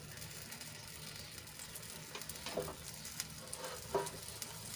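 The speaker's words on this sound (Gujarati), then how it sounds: "થોડુંક ટીપા આપણે તેલ એડ કરીશું" An aloo paratha fries steadily in a few drops of oil on a griddle, giving a continuous close sizzle with scattered small pops and crackles and no talking.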